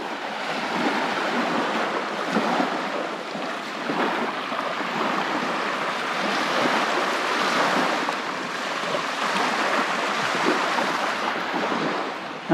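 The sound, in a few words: ocean waves on a beach at high tide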